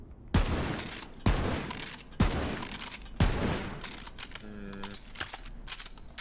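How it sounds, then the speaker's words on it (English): Four heavy sniper rifle shots ring out roughly a second apart in Borderlands 3, each a sharp loud crack with a decaying tail, followed by quieter mechanical reload clicks and a short tonal effect. "That's a big, big sniper rifle."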